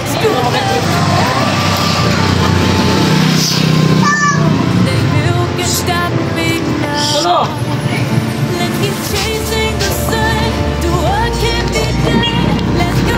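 Motorcycle engine while riding, a steady loud drone with rushing road and wind noise throughout, close to the microphone and partly masking a few voices talking in the background.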